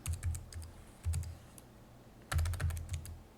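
Typing on a computer keyboard in three quick bursts of soft clicking keystrokes, close and quiet, separated by short pauses.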